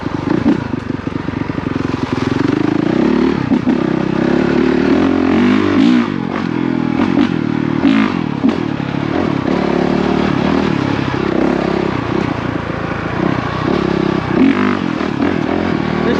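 A Honda CRF450RX dirt bike engine roars continuously while being ridden, loud and close, its revs rising and falling with throttle changes and some clattering, with no talking.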